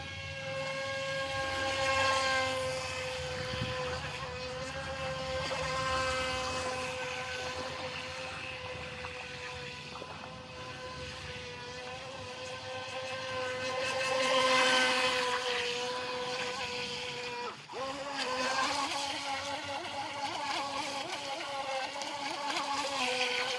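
High-pitched whining motor of a Haiboxing Surge X03 RC boat running on water, rising and falling in pitch as it speeds up and turns, steady and fairly loud for the whole stretch with a brief dip near the end.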